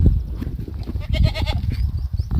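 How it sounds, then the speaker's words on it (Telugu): Goats bleat on the way to forest grazing land, several calls overlapping in a short, busy stretch with low rustling and footsteps underneath, fairly close. "మేకలు అయితే కొట్టుకుపోతున్నాము అడవికి మేపడానికి"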